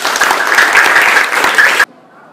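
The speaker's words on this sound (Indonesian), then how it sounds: "Iya, tepuk tangan semuanya." Applause from a classroom full of students fills the room loudly and steadily for nearly two seconds, then stops abruptly, leaving only faint room noise.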